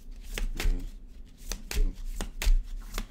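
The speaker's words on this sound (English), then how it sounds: "One more shuffle." A few quick card shuffles, sharp riffling bursts spaced apart, close and fairly loud.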